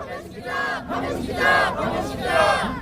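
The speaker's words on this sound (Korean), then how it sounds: "구호 외쳐보겠습니다" A large crowd at a political protest rally chants slogans in unison, loud swelling shouted phrases rising in three waves, echoing around an open gathering.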